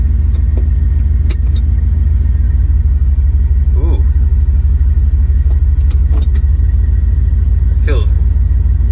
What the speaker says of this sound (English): Let's see how shifting into reverse feels here.